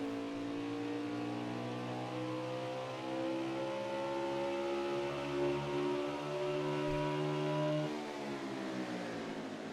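Race cars in a UTLR Xfinity Series race at Mid-Ohio scream past with rising and falling engine whine, gears shifting as one car pulls away, loud and sustained with no voices.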